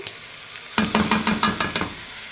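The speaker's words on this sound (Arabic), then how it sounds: "شوحنا بقى الفراخ على الناحيتين" Chicken pieces with garlic sautéing in a hot pan for kabsa, a steady sizzle with a series of sharp stirring scrapes and clatters starting partway through, close and fairly loud, no talking.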